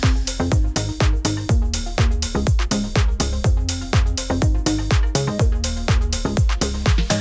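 Several bass lines layered together in an electronic track, thumping out a steady, driving rhythm of punchy low notes with a sustained tone running over them, loud and continuous with no voices.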